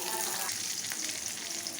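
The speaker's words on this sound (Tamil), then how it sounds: "இப்போ தாளிக்கிறதுக்காக சின்ன வெங்காயம் போட்டு நல்லா பொன் வறுவலாக" Shallots sizzle in hot oil while being fried golden as a tempering for idli sambar, giving a brief, steady, close-up crackling hiss.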